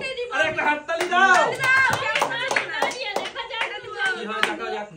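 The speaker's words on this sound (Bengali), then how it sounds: "আরে একটা হাততালি দাও" Hands clap in quick, sharp strokes during a family's surprise-gift pot challenge game, heard close and overlapping with lively talking voices.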